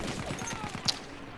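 Rapid burst of distant gunfire in Battlefield 1 multiplayer, a quick regular string of shots, fairly faint, with one sharper crack near the end.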